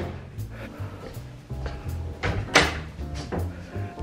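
A drawer in a house is pulled open and pushed shut, giving a run of close wooden slides and knocks with a sharper bump near the middle and no talking over it.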